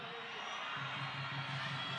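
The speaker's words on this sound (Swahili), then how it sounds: "Hebu nione shangwe ya jiji la Arusha" A crowd at a CCM political rally in Arusha cheers and shouts in a continuous, moderately loud roar with voices rising and falling throughout, no single speaker standing out.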